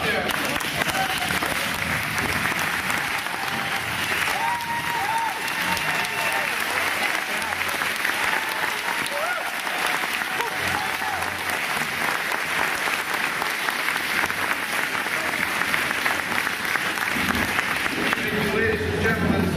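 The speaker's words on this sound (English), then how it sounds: "We would ask that all of the staff, past and present, please stand and please applaud them." An audience at the Sacred Heart School centennial welcome gives sustained, steady applause for past and present staff and faculty, loud and continuous for the full stretch with voices faintly mixed in.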